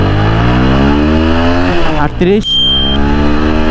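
A TVS Apache 4V motorcycle accelerating hard in third gear on an open road, its loud engine drone climbing steadily in pitch and close to the listener, with brief rider talk over it.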